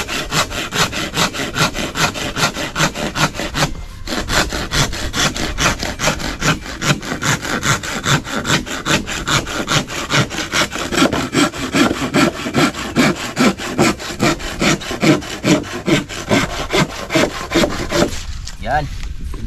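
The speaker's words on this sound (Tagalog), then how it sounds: "So napakaganda nung lagari na nabili ko, sa halagang 250." A new hand saw cuts through wood in steady, rhythmic back-and-forth strokes, loud and close, continuing for nearly the whole stretch with a brief pause early on and another near the end.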